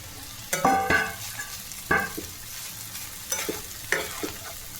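Soaked flattened rice with carrots, cashews and raisins being stirred in a pan: several distinct scraping strokes of a spoon land over a soft, continuous sizzle, close and unaccompanied by voices.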